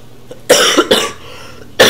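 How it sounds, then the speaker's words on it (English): A person coughs three times in quick, close bursts, with a short gap before the last one. The room is otherwise quiet. "Yes, I have cough."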